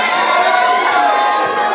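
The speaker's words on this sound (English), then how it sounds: "A round of applause for Afrika Tikkun." An audience at the Afrika Tikkun Alumni Day 2019 event cheers and shouts in a dense, continuous crowd roar, with excited voices overlapping throughout.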